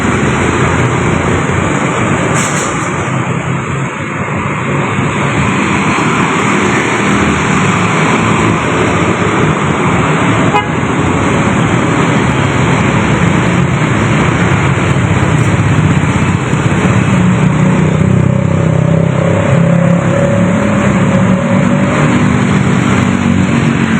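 Steady roadway noise with car engines idling and passing beside a row of parked travel shuttle vans in Jatinangor, Sumedang, a constant loud rumble with occasional louder swells.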